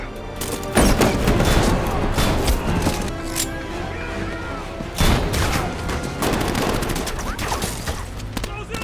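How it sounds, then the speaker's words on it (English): Gunfire in a fantasy film fight scene, dense bursts of rapid shots and booming impacts over a loud, busy soundtrack, continuous and close throughout. "Roland pulled out his gun and started fighting them"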